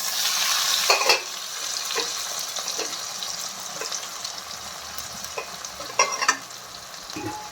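Tomato drops into a hot pan of curry with a bright sizzle, then frying crackles on steadily while a spatula scrapes and stirs in short bursts.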